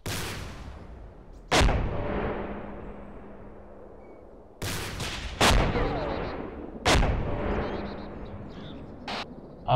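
Grenades explode in ArmA 2: four or five loud, sharp blasts, each followed by a long fading rumble, with quiet stretches between them.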